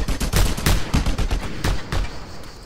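Gunfire in Just Cause 2, a loud close burst of rapid automatic shots followed by a few scattered single cracks that fade out.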